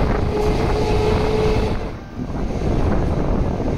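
A train pulls away from Janai Road station, giving a steady rumbling roar with wind buffeting the microphone and a faint tonal whine early on, dipping briefly before the rumble resumes.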